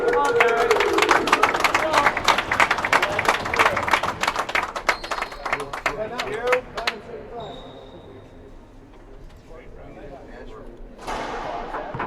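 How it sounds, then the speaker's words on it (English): A packed crowd at a racquetball quarter-final match claps in steady applause, dense at first, then thinning and fading, while a commentator talks over it. "The crowd is packed in down here and upstairs. You can hear them clapping."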